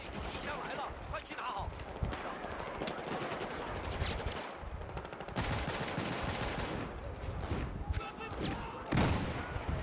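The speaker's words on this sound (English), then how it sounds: "God damn, it took four shots." Dense Battlefield 4 gunfire fills the stretch, with rapid automatic bursts and sharp single shots layered over constant in-game battle noise, loud and close throughout, with a few louder cracks standing out.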